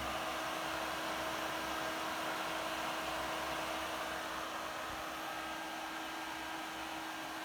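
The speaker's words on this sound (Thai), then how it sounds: "ดังประมาณหนึ่งเลยนะครับพัดลม" Steady, fairly quiet whir of the cooling fan in a car subwoofer amplifier's switching power supply, an even airy hum with a faint tonal line that holds unchanged for several seconds.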